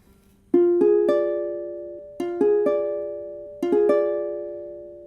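A diminished chord in first inversion, played as an ear-training example, arrives as three groups of clear sustained tones, each built note by note with staggered onsets and left to ring and fade. No voices are present.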